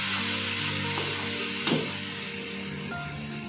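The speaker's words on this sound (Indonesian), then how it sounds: "harus diaduk-aduk terus ya friend biar matangnya merata dan gak cepat gosong" Pontianak-style beef kway teow is stir-fried in a pan with a continuous close sizzle and one brief louder hiss from stirring partway through.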